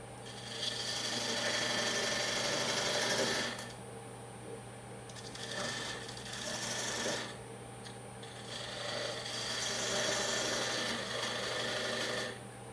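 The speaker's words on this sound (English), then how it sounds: "I have this tool I made. Cuts a nice bevel in there for the tenon." A homemade hand tool rasping a bevel for a tenon into black oak, long steady scraping strokes in bursts separated by short pauses, close and fairly quiet with no talk.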